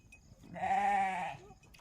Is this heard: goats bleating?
yes